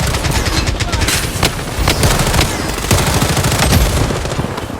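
SCAR rifle fire in the Blood Strike video game, with rapid bursts of sharp shots crackling close and loud throughout, in irregular strings.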